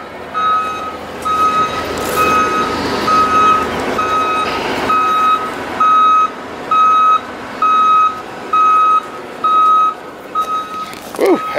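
A 1996 Fleetwood Bounder 35U Class A gas motorhome sounds its reversing alarm, a loud, close, evenly spaced series of electronic beeps with an idling engine underneath, while someone talks over the start.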